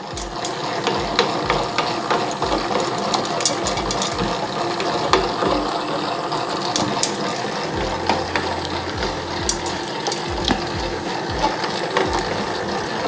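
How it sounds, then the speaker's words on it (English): A dough mixer kneads 72% hydration pizza dough with ice cubes in the bowl, giving a steady mechanical churning with a regular rhythmic knocking and rattling that runs unbroken from close by. "So we've been running for 6 minutes, 43 on the mixer."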